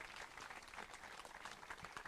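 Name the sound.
audience applause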